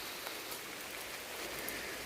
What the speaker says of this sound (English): it's been raining pretty much since about 4 o'clock this afternoon